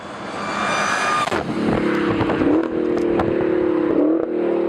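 Engine of a Hellcord car, not a V8, running steadily loud and close, with a rev rise near the start and an even droning idle with slight pitch shifts afterward.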